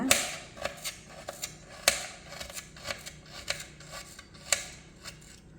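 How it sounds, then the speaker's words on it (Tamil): A knife finely chopping turmeric root makes a quick run of sharp, irregular taps on a hard surface, close and moderately loud, with no voices. "இந்த அளவுக்கு நல்லா பொடியாக கட் பண்ணிக்கோங்க"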